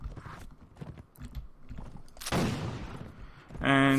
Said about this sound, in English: Oh crap, everyone is firing at me.